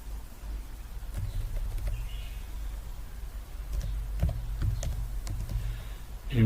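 Someone types on a computer keyboard, producing a few scattered, sparse key clicks over a low background hum.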